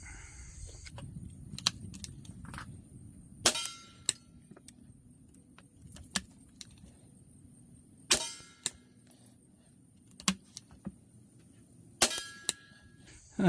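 Remington CB rounds fired one at a time at a target outdoors in a backyard, giving a series of sharp, light cracks spaced a couple of seconds apart over a quiet background.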